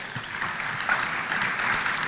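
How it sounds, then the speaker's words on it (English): Audience applause fills a business forum hall at KICC in Nairobi, a dense, steady wash of many hands clapping at moderate loudness throughout, with no voices standing out. "Let's put another round of applause for"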